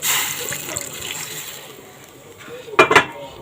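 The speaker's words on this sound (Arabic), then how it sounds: "طبعا بضيف ايه ربع كوبايه ميه عليهم" Water splashes into a pan of frying garlic and onions with vinegar while cooking koshari, giving a brief loud double gush near the end after quieter kitchen sizzle.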